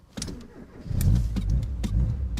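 An Abarth 595 in sport mode fires up from a button press: a short crank and catch, then a deep, throaty idle that swells and stays loud and close to the end.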